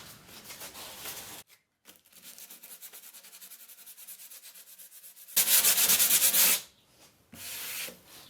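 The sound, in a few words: hand sanding a finish with 80 grit sandpaper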